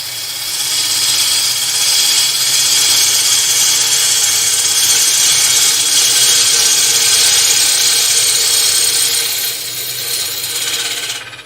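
A wood lathe spinning while a gouge takes repeated cuts, giving a steady, loud, hissing scrape that runs continuously and eases off briefly near the end.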